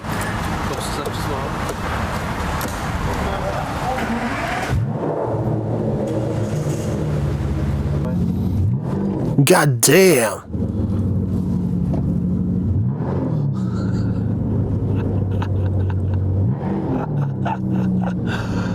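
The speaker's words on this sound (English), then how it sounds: "This is a goddamn Aston Martin DBS, baby." Aston Martin DBS engine running, with a steady low rumble throughout and a brief rising rev partway through, heard from inside the car under a man's close, loud talk.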